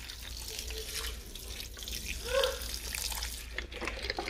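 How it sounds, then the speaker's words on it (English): Beef stock pours into a crock pot of beef barley soup, giving a steady, close liquid splashing and trickling that swells briefly midway, with faint kitchen background and no talk. "I'm going to be adding 4 cups of beef stock to this."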